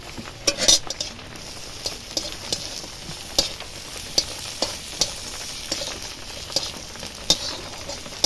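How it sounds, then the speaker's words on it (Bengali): Onion and crushed garlic frying in a pan, a steady sizzle broken by repeated scraping and stirring knocks of a utensil, close and fairly loud with no talk. "পেঁয়াজটা অনেকটা ভাজা ভাজা হয়ে এসেছে এবার দেবো থেঁতো করে রাখা রসুন"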